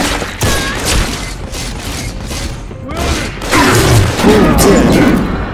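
Gunfire in the video game BioShock 2, with scattered shots and thumps under a busy mix of game effects, swelling louder toward the end.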